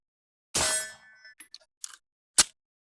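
A bullet striking a Harbor Freight steel armor plate at a shooting range rings out as one loud, sharp metallic clang with a lingering ring, followed by a few smaller clicks and a second crisp impact.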